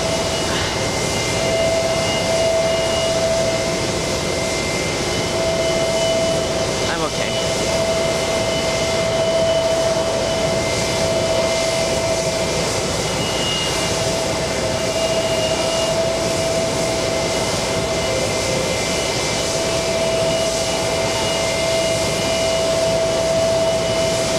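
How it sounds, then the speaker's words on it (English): A Virgin Atlantic Airbus A350-1000 landing on the runway at JFK airport, a loud steady jet engine roar with a sustained whine, continuous and unbroken, no talk. "Landing right now. It's on the runway. Virgin Atlantic. It's a big A350 1000."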